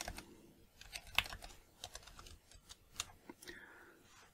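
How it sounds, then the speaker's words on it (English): Password being typed on a computer keyboard while setting up a user account, heard as a quiet, uneven run of light key taps with small clicks and pauses, close by and alone. "and then type in a password as well."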